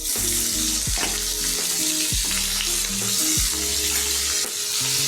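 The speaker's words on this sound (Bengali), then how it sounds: "এটাকে আমি একটু ভাজা ভাজা করে নিই।" Onion, potato and eggplant fry together in hot oil for a dried-fish curry, making a loud, continuous crackling sizzle broken by regular scraping stirs of a spatula against the pan, with no voices.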